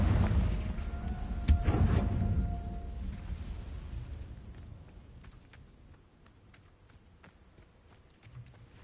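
A Confringo explosion spell goes off in Hogwarts Legacy as a single sharp, fairly loud blast. It is followed by a fading rumble and a scatter of faint small ticks and steps.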